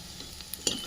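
Curry leaves go into hot oil over fried onions for a bottle gourd curry tempering, giving a brief, close crackling sizzle with a sharper burst of spitting near the end.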